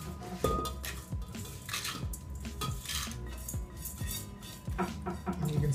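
A cooking spatula scrapes golden-brown garlic and arbol chilies into a blender, making repeated close clinks and scrapes against the container in an irregular rhythm.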